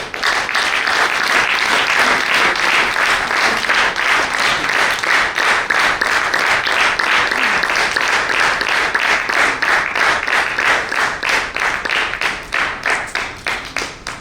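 A large audience at a book lovers' convention award ceremony in Karad claps loudly and continuously for many seconds, a dense wall of applause that thins slightly toward the end.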